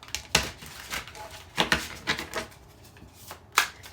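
Tarot cards being shuffled by hand give sharp, irregular riffling bursts and soft slaps, close up, in several separate flurries with quiet gaps between them.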